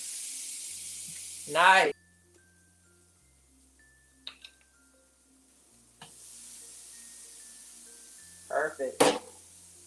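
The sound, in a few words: vegan plant-based burger patties sizzling in a pan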